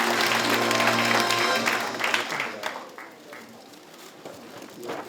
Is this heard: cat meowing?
no